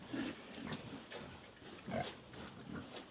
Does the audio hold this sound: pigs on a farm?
yes